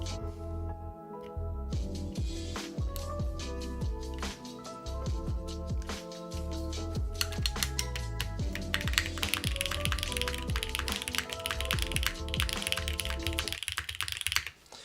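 Continuous typing on an aluminum Keycult No. 3 mechanical keyboard with crisp, clacky keystrokes in a steady rhythm, close and fairly loud, with occasional heavier thocks.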